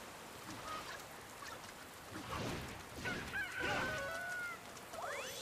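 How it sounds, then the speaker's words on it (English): A chicken in the video game Dragon Quest Builders 2 gives several honking, clucking fowl calls over a faint, noisy game background, growing more frequent toward the end with no talk. "Chicken!"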